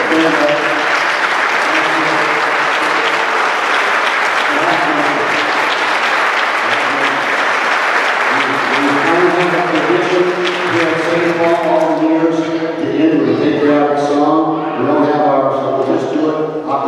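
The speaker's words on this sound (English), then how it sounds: "We'd like to give you a round of applause." A crowd at a church ice cream social applauds veterans who stand, loud sustained clapping, and partway through people start singing together over the fading applause.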